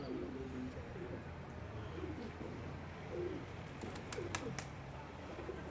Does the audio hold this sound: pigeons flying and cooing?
yes